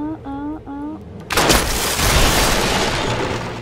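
In Rise of the Tomb Raider, a voice speaks briefly, then a loud, sudden blast of gunfire erupts and trails off into a sustained rumbling roar.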